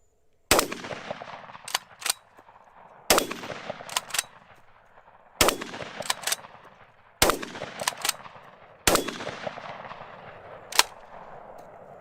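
Five loud, sharp gunshots from a gun fitted with a UUQ Eagle C28 red dot sight ring out at roughly two-second intervals, each with a trailing echo, and clicks and small noises fall between them.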